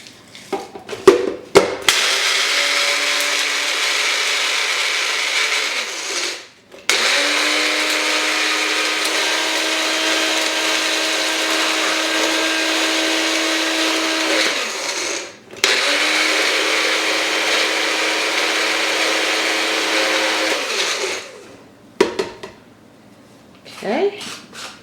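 Small electric grinder powdering eggshells, a loud, close whirring roar run in three long bursts with short gaps between them, preceded and followed by brief rattles and clicks.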